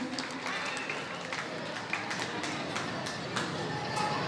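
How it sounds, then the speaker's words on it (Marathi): Audience at an arts award ceremony claps in a continuous, fairly loud round of applause with scattered individual claps. "जोरदार टाळ्या होऊ द्या त्या माऊलींसाठी"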